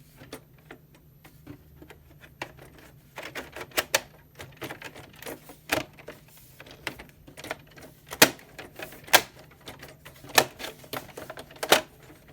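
The plastic top cover of an iRobot Roomba is pressed onto the robot vacuum. A series of sharp, irregular clicks and snaps sounds up close, some louder than others, over a quiet background.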